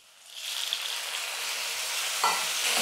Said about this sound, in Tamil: இந்த தக்காளியும் சேர்த்து நம்ம வதக்கிக்கலாம்.